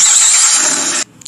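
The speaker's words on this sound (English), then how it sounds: "we got the truck going" A truck engine turns over and catches, a loud, steady broadband roar lasting about a second that cuts off abruptly, followed by a few faint knocks and rattles.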